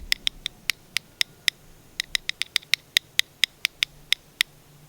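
Squirrel chatter is imitated by tapping a quarter in a cupped hand, giving a steady series of crisp, close clicks in short groups that quicken slightly toward the end, alone against a quiet background.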